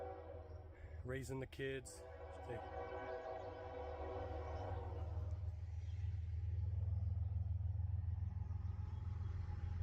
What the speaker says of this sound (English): Got video bombed by the train.